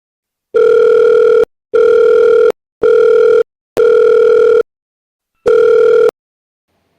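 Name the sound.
telephone call ringing tone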